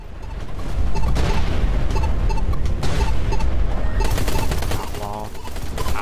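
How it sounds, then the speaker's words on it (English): Rapid automatic fire and explosive bursts from incoming missiles aimed at the player's ship in the space combat game Everspace 2, loud and dense throughout, with a voice talking over the barrage. "Who's shooting missiles at me?"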